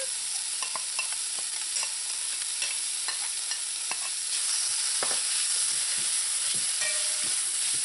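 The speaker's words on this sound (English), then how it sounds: "So my onions are browning. Lower the heat and add your smoked herring." Onions and smoked herring sizzle steadily in a hot pan, a constant bright crackle with scattered pops and occasional scraping stirs, close and moderately loud with no talking.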